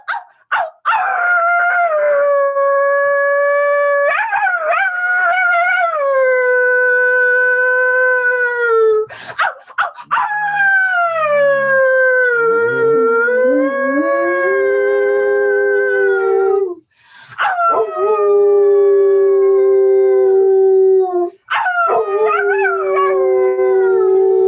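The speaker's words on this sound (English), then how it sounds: "That's one of the reasons wolves howl, after all, to find each other and connect" Wolves howl in long, loud, sustained rising and falling tones, several voices overlapping and near, with short breaks between howls.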